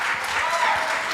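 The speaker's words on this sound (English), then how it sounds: "Let's give them both a big round of applause," An audience at a live-streamed talk breaks into dense, steady applause, loud and continuous for a brief moment, with faint voices mixed in.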